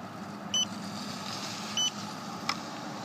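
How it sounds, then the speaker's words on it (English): Two short, clear power-off beeps from a Focus 30 surveying instrument about a second apart over a quiet background hiss, followed by a faint click. "just press and hold the power button and wait for 2 beeps"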